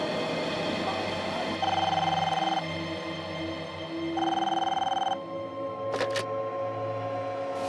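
Telephone ringing in a Hindi CID crime drama scene, a repeating electronic ring in bursts of about a second over steady background music, fairly loud, with no speech over it.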